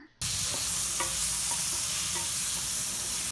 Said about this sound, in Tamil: ஒரு தக்காளி எடுத்து கட் பண்ணி வச்சுருக்கிறேன் அதையும் இதில் சேர்த்து நல்லா வதக்கிடலாம்